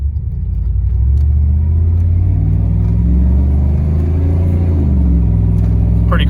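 A deep, steady sport exhaust rumble heard from inside the cab of a 1994 GMC Sierra K-1500 pickup, loud and low-pitched as the engine pulls, with a muffled, enclosed quality.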